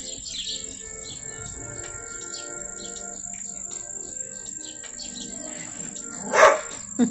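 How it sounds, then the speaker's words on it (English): A dog barks outdoors as people walk their dogs past on a sunny day. A single short bark rises near the end over a quiet ambience with faint insect and bird chirping. "more people going by walking their dogs,"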